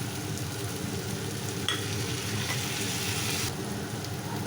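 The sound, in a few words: potato, pumpkin and green chillies frying in a pan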